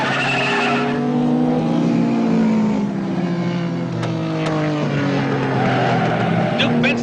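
Racing cars roar past during a 1950s motor race that includes a Ferrari, engine notes rising and falling with Doppler sweeps and tyre squeal, loud and close, under a commentator's voice.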